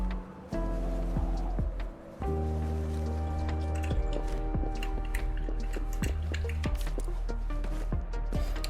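A cooking sound effect in the video game Wuthering Waves: a steady sizzling, bubbling texture with sustained tonal hum and scattered drips and clicks running continuously for several seconds, without speech.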